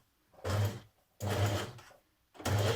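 A sewing machine stitches the neck edge of a jersey dress in three separate bursts, each run lasting under a second with short pauses between, close and steady with no talking.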